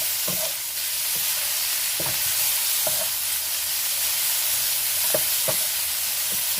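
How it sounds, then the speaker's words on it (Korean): Seasoned shredded meat stir-frying in a pan, a constant close sizzle with repeated soft scraping and stirring knocks throughout. "가진 양념을 해서 볶고 있습니다"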